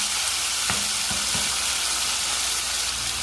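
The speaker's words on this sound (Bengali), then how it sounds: "পেঁয়াজ আর জিরা মোটামুটি বাজা হয়ে গেছে। এর মাঝে ছাড়ে দিব 2 কোটা টমেটো ঠিক করে কাটা।" Onion and cumin frying in oil, with chopped tomatoes tipped into the pan, a loud continuous close sizzle broken by a few sharp knocks against the pan near the start.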